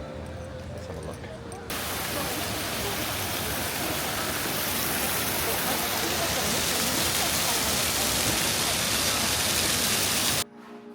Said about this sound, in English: Looks like that has sort of hot water flowing through it